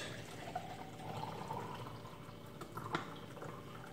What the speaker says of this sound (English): I'm going to fill up this thermos